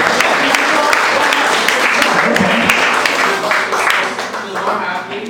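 A live audience claps in sustained, steady applause at a talk on happiness, dense and fairly loud throughout, easing slightly toward the end.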